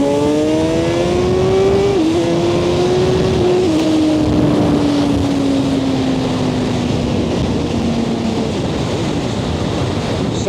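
A Suzuki GSX-R1000R sport motorcycle accelerating hard, in A mode with traction control at setting 1. A loud close engine drones as its pitch climbs through a gear change, then holds and slowly falls, under heavy wind rush.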